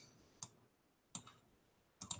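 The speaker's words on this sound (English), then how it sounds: "Let's see if we could type that in." A few separate clicks on a computer keyboard while entering a search, spaced out singly and in a quick pair, faint and close in an otherwise quiet room.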